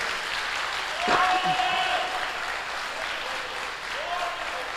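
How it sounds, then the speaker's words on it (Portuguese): A church congregation applauds in praise, a moderate wash of clapping heard alongside a voice and a brief sustained tone. "Aplauda bem forte."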